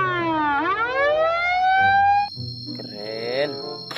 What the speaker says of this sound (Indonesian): di sini ada mobil ambulans